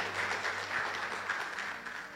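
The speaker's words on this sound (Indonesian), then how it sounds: "Boleh kasih tepuk tangan buat Tuhan kita." A church congregation applauds during a sermon, a soft, somewhat distant wash of clapping that fades gradually.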